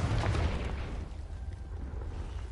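Confringo blasting spell explosion in Hogwarts Legacy, a sharp low boom at the start that decays into a rumbling tail over a couple of seconds.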